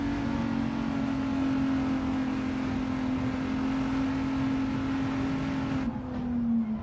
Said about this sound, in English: I can hear the engine ticking over.